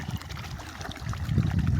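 Irrigation water running along an earthen channel in a sun-baked field during pre-sowing watering, a steady close trickling and rushing wash that swells louder toward the end.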